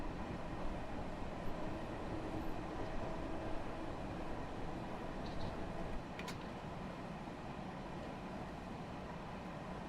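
A New York commuter train on the Grand Central to North White Plains line in the Train Sim World 2 game picks up speed, a steady low rumble and rolling rail noise with a brief high squeal partway through, and no talk.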